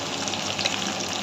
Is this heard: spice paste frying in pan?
yes